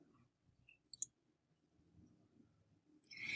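Two quick faint computer mouse clicks in close succession on an otherwise quiet desk, followed by a rising soft rustle.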